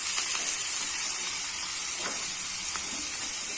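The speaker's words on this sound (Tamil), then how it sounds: "தக்காளி நல்லா வதங்கட்டும்." Three roughly chopped tomatoes fry in a pan for Chettinad-style kara chutney, giving a steady, close sizzling hiss with a few faint crackles and no voices.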